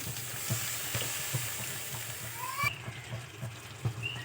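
Washed, chopped cabbage sizzles as it goes into the pan, a faint steady frying hiss with soft stirring taps throughout.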